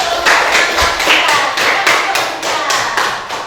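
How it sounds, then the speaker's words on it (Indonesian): Pupils in a primary school classroom at SDN Gembol 1, Karanganyar, Ngawi, clap hands together in a quick, rhythmic burst of roughly a dozen evenly spaced claps, close and fairly loud. "tepuk tangan dulu"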